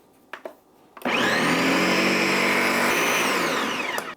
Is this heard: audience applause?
no